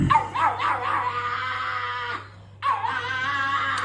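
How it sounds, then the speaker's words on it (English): A pug lets out high, wailing scream-like cries instead of barks, several rising yelps in quick succession, then a short pause before another long, loud scream close by. "a pug that instead of barking, screamed like an elderly woman with a broken hip"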